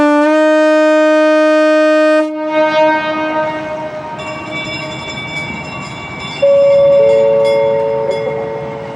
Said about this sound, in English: we just had to honk the horn a little bit